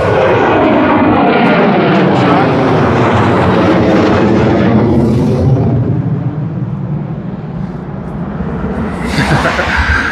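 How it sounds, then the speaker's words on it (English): A loud airplane near Harry Reid International Airport in Las Vegas roars overhead, its engine pitch sweeping downward as it passes, then fading into a rumble. "stopping and taking a video of the plane overhead"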